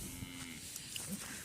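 A bull at a cattle market on a Padma river char gives a short, faint low moo in the distance, set against a soft background of market noise.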